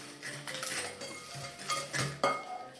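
Vanilla sugar and sugar are mixed with eggs and salt in a bowl for an apple shortcrust cake, with a steady rough scraping and clinking of a utensil against the bowl, close and continuous, with no voices.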